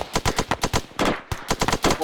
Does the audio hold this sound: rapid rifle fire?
yes